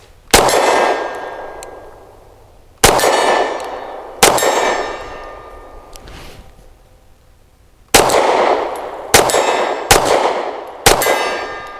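An EAA Girsan High Power Lightweight pistol's rounds strike steel targets at long distance, giving seven loud, sharp metallic clangs that ring out and decay between hits, in irregular spacing with no talking.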